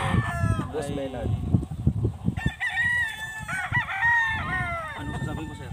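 A rooster crows on a farm, its drawn-out call standing out over a busy background of overlapping voices and other farmyard noise.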